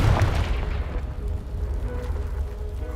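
A Confringo blasting spell explodes in the Hogwarts Legacy video game, a heavy boom that bursts out at once and then decays into a low rumble.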